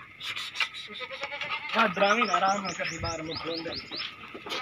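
Goats on a small farm bleat repeatedly, several wavering calls rising and falling up close, mixed with birdsong and brief background chatter.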